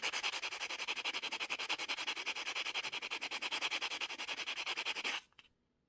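Rough abrasive rubbed back and forth over the wire of a men's jewellery pendant, a fast steady rhythm of close, loud scratchy strokes for about five seconds before stopping abruptly.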